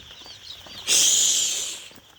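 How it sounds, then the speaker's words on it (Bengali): Chickens on a poultry farm with about 200 birds give one brief burst of wing flapping, a loud fluttering rush lasting under a second in an otherwise quiet shed. "এখানে 200 মুরগি আছে।"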